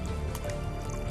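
A chemical solution splashes and trickles over unripe bananas dunked into a soaking tub, a brief continuous wet pouring sound close by.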